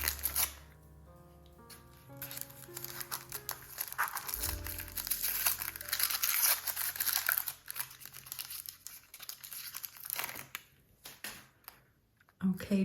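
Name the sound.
unwrapping taped packaging of a cosmetics calendar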